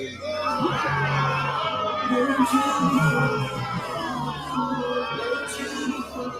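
A concert crowd at a live show cheers and whoops in a dense, steady roar, with yells and shouts rising above the noise throughout.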